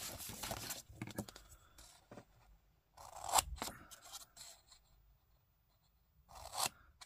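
Scissors snipping through paper and card while assembling a recipe storage craft kit, with short, close, fairly quiet cuts in uneven bursts and soft rustling between them.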